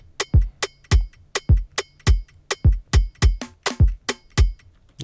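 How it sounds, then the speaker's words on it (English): An Afrobeat beat with a clap sample layered in repeats sharp, evenly spaced hits over deep kick thumps, loud and upfront, with no voices. "So here I added the clap,"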